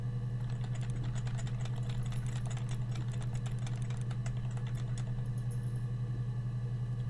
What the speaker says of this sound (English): Can you hear my keyboard?